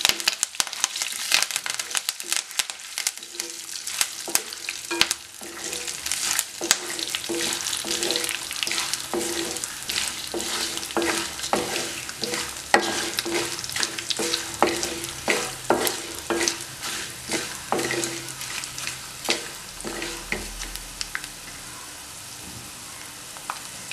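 Curry leaves and red chili tempering in hot oil in a pan for Andhra-style tamarind rice, with a continuous sizzle and crackle broken by repeated spoon scrapes as it is stirred, no talking.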